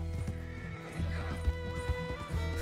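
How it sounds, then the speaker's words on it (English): A horse in the video game Red Dead Redemption II neighs in a long, wavering whinny, with hooves clip-clopping nearby through the short moment. "That was just a stranger's horse."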